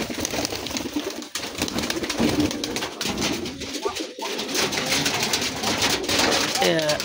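Red and sky-blue pigeons coo softly amid a busy flutter of wings and rustling, close by, with bird calls layered throughout.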